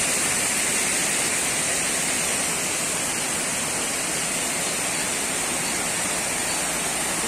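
Water of the Guarruz creek rushing steadily where it flows into the Cañalejo river, a loud, continuous broadband roar with no pauses or other sounds.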